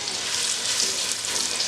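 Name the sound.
chicken browning in a pot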